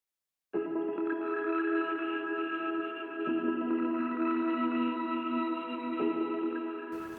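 A sustained, shimmering Granular Piano preset pad from the Modular Piano bundle, grainy and smeared, holding dense layered tones steadily for several seconds before cutting off abruptly.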